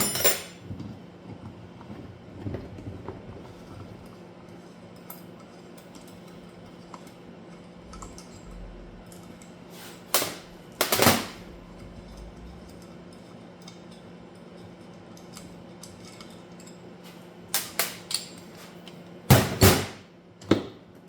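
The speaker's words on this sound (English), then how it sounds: "I'm actually lifting it up and hitting the case gently away from me." Sharp metallic taps on a Yamaha YZ250 engine case in a workshop, a few isolated knocks scattered apart, then small clustered bursts of strikes against a quiet background.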